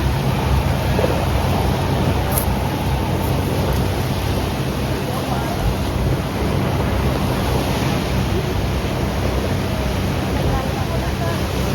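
Sea waves lapping at an island shore near Krabi, Thailand, forming a steady, continuous wash of surf with a wind-like hiss that holds level throughout.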